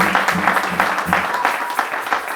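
A church congregation applauding, a continuous patter of many hands clapping at close range with voices mixed in throughout.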